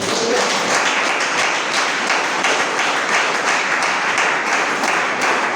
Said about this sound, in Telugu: చప్పట్లు పట్టండి.